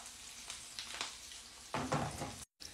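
Pieces of Tunisian chebtiya dropped into hot oil, each set off with a burst of sizzling, the loudest and longest coming near the end, over a soft steady fry.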